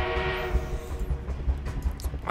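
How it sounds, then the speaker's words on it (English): Armored train in Battlefield 1 gameplay, a steady loud rumble of heavy rolling wheels and engine with rhythmic low thumps, sustained tones and clanks throughout, no talk. "The enemy is being reinforced with an armored train."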